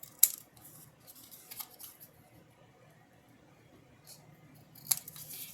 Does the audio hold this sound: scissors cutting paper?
yes